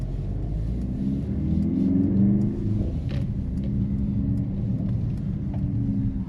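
Mercedes-AMG GLC 63 S E Performance hybrid in Sport Plus mode, a deep steady engine rumble heard from inside the cabin, swelling slightly as it pulls, with no one speaking.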